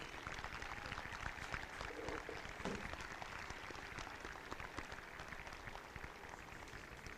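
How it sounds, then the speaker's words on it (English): A graduation audience at a high school commencement applauds steadily, a dense, even wash of many hands clapping from a crowd at moderate distance, sustained throughout. "I ask you to give her a round of applause"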